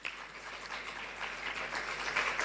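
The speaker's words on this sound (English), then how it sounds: "Keep clapping, like for a few more seconds" Conference audience clapping at a renewable energy conference and expo, a steady dense patter of many hands close by, sustained without pause for a couple of seconds.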